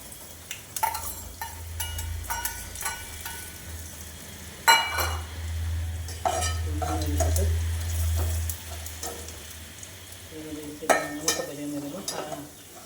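Ginger and urad dal crackling as they fry in a pan, with a steady low sizzle and scattered clinks and stirring scrapes of a utensil against the metal, close and moderately loud with no talking.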